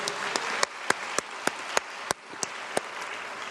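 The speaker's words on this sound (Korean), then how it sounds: "박수로 하나님께 영광 돌립니다." A church congregation applauds during a Friday worship service, steady clapping with several sharp, distinct claps standing out at a fairly even pace.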